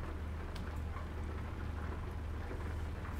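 Steady rain pours down in American Truck Simulator, with a deep rumble of thunder under a constant dense hiss and no talking.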